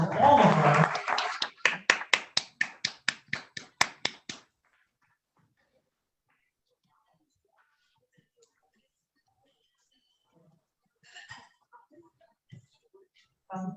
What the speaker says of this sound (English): can we please have a big round of applause for all of our